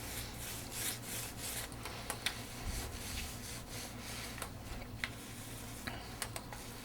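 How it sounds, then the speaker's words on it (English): A brush strokes fabric adhesive across a fabric-wrapped double mat in gentle back-and-forth passes, with soft, quiet rubbing and a few faint ticks. "coming back with a nice gentle stroke to pull up any excess glue"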